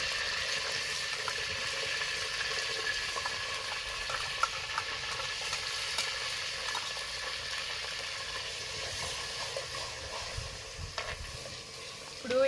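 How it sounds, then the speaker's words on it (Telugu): Onions sizzle in a clay pot over a wood fire outdoors for fish curry, a steady, close, hissing fry that continues evenly throughout without talk. "ఎర్రగడ్డలు అయితే వేగిపోయాయండి"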